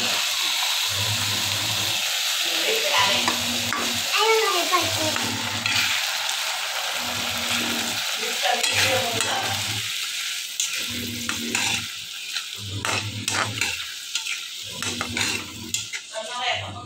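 Sprouted moth beans stirred into onions in a frying pan, sizzling steadily with rhythmic scraping strokes of a spoon, while someone talks throughout.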